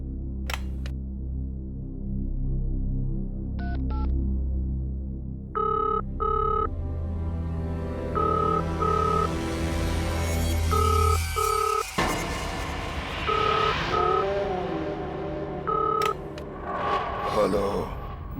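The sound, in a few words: telephone ringing, call to reception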